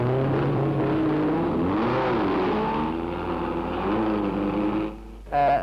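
Lotus Climax sports cars racing at Mallory Park, their engines revving loudly and changing pitch through a corner, then cutting off abruptly before a short loud burst near the end.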